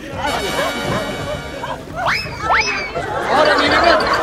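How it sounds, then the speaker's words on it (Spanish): A dog barks and yelps in a swimming pool as it struggles in the water, with a few sharp rising yips standing out among excited crowd chatter and shouting. "¡Se ahoga el perro, se ahoga!"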